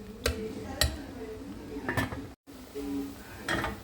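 A lid is set back onto a cooking pot of bulanglang vegetable stew: a few soft metallic clinks and knocks, spaced about a second apart, close by and fairly quiet.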